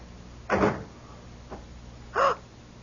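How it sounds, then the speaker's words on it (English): A door shuts with a solid thud, followed by a faint knock and then a second louder bump, all close by in an indoor room with no talking. "Come in, close the door."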